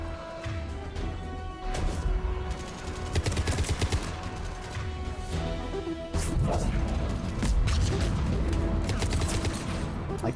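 Rapid gunfire in the video game Mass Effect 3, sustained bursts of weighty shots and impacts crackling close and loud across the whole stretch, with no talk.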